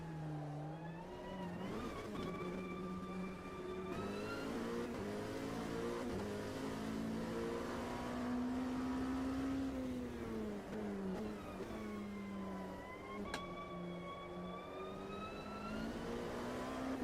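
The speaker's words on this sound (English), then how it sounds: "at least the LMP2 car sounds alright" An LMP2 prototype race car engine in the Automobilista 2 racing game howls continuously, its pitch rising through the revs, dipping at gear changes and climbing again, loud and close throughout.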